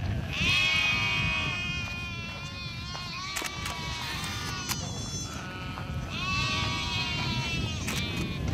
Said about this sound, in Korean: 저 초원 위에 염소떼들이 그림처럼 논일고 있다.